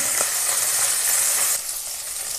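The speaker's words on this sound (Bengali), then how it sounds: "এখন মাছটাকে ভালো করে ভেজে নেব" Fish rubbed with turmeric sizzles steadily in hot oil in a pan, a continuous bright hiss that barely shifts throughout, with no voices over it.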